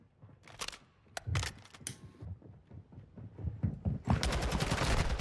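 Gunfire in Call of Duty: Modern Warfare 2 ranked play, with scattered sharp shots and mechanical clicks building into dense sustained firing at the end, loud and close.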